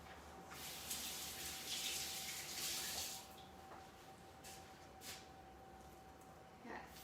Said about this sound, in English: Time to rinse my hands again.